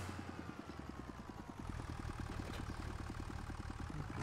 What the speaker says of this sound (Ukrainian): У нас китайський Шінхай Махинка.